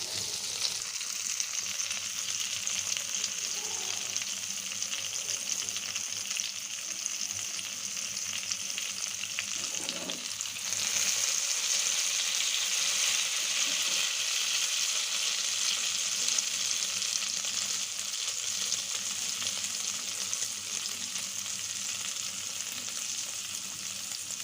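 A beaten egg and tomato mixture sizzles in a small amount of oil in a pan over medium-low heat. The frying hiss is steady, close and continuous, with no talking.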